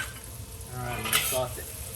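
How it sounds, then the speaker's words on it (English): Onions sauté in hot oil in a pan, a close, continuous sizzle and crackle with a light stir partway through. "saute these onions. Get them a little bit nice, caramelized, and a little bit crispy"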